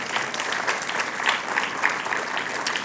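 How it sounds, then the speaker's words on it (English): Audience applause for partners at the GO Ecosystem Briefing 2019, steady dense clapping from a large crowd filling the whole stretch, fairly close and even in loudness. "can I just get a round of applause for our partners"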